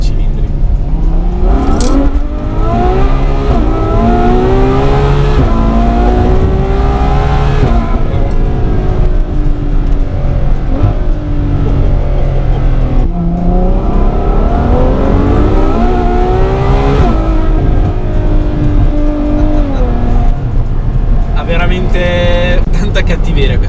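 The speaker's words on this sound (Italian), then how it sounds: "Adesso torniamo indietro a rifare quel rettilineo perché voglio godermelo sto 12 cilindri" A Ferrari F12 with its 12-cylinder engine accelerating hard on a straight, heard from inside the car as a loud, continuous howl that rises through the gears in repeated climbing sweeps, with brief drops at each shift.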